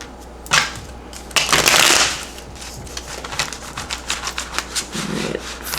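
Tarot cards are shuffled close up in crisp riffling bursts, first a few loud sweeps and then a run of quick, rhythmic flicks and taps as the deck is worked.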